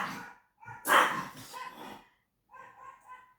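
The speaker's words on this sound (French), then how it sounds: "On a un chien pas très commode qui passe toujours devant la maison et du coup la mienne aboie forcément." A pet dog barks in short bursts at a dog passing the house, a loud sharp volley near the microphone, then quieter yips after a brief pause.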